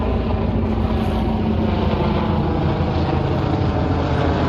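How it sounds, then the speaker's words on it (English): Military helicopter passing over Lower Manhattan, New York City, on a clear day: a steady, loud low rumble of rotor and engine that fills the clip, with no talk. "But it's certainly a military helicopter."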